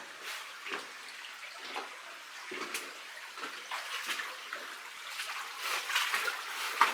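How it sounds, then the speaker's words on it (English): Water trickling and dripping in a Colorado gold mine tunnel near a fault and big timbers, a steady soft splashing wash with scattered drips, fairly faint and continuous throughout with no one talking. "Water coming out."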